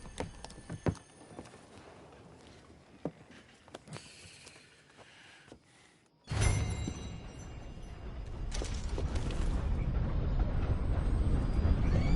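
A steam train departs in Red Dead Redemption 2: after a brief lull a loud burst of hissing, rumbling noise sets in and grows steadily heavier as the train gets under way.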